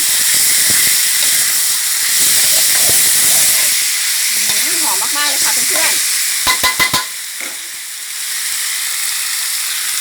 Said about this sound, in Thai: แล้วก็ผัดทุกอย่างให้เข้ากันเลยนะคะ